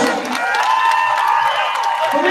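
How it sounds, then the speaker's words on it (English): Crowd in a gymnasium at a girls' regional basketball championship claps and cheers, with scattered whoops and voices rising over continuous, loud applause. "Again, let's give them a big round of applause."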